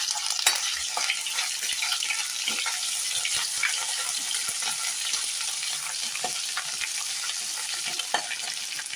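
A ginger-garlic paste fries over crushed cumin in a pan for a cashew potato gravy, giving off a continuous close sizzle with frequent stirring scrapes and light clinks throughout, and no one speaking.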